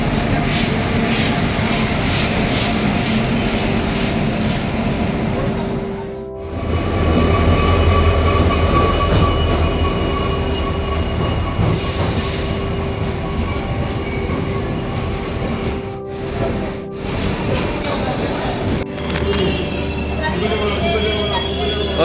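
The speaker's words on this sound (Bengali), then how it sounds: "দর্নিপোল এক্সপ্রেস আসছে" Donyi Polo Express passenger train arriving at a station, loud and close: rumbling wheels, steady droning tones, a brief squeal, building and easing over time, with voices around it.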